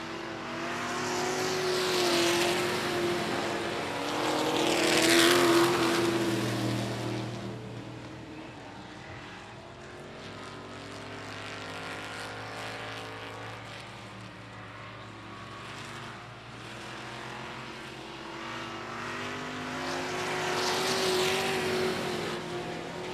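Dirt track race trucks roar around the I-37 Speedway oval in Texas, engines swelling loudly as the pack passes, fading to a steady distant drone, then surging again on the next pass.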